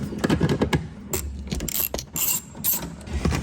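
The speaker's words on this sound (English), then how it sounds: "We just gotta remove these 3 10mm bolts" A ratchet wrench works loose 10mm bolts on an NA/NB Mazda Miata during a 1.8 engine swap, giving bursts of sharp, rapid clicking strokes, close and loud, separated by short pauses and clinks of metal.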